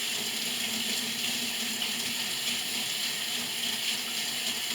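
Warm water runs steadily from a tap into a sink, a continuous close hiss and splash with no talk over it.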